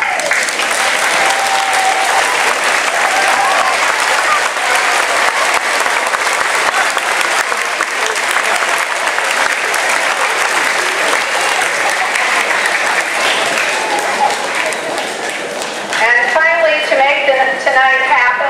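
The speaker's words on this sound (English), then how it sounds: "give you a warm round of applause" Audience at an 8th grade graduation ceremony gives parents and guardians a long, loud round of applause, dense steady clapping filling a large hall before tapering slightly near the end.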